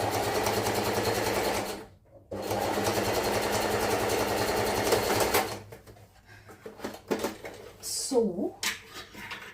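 A sewing machine stitches a seam on baggy pants in a long steady run, briefly pausing, then gives way to handling noises and clatter, with a voice speaking toward the end.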